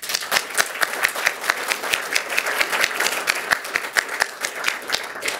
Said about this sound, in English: Please join me in thanking the panel members and give them a round of applause.